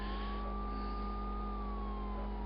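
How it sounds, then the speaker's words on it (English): A police car siren in the PS1 video game World's Scariest Police Chases, a single steady electronic wail that rises and falls slowly over a low, constant engine drone, with no talking. "when you have the siren on, cars will move out of the way for you"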